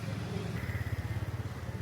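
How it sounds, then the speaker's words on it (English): A motorcycle on a narrow back-alley street in Hoi An runs with a low, throbbing engine rumble that pulses steadily, faint and somewhat distant, behind a soft murmur of street ambience. "A motorcycle."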